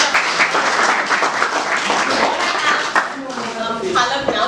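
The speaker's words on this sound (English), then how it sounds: "I want you guys to give me a round of applause, please." An audience gives a round of applause at an outreach programme event, with a dense burst of clapping mixed with voices and chatter, the clapping thinning out toward the end as talk takes over.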